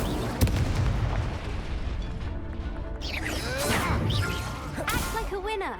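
Incendio fire spell blasts in the Hogwarts Legacy video game, a dense burst of booming, crackling bursts and whooshes amid layered game effects and music, with voices heard alongside.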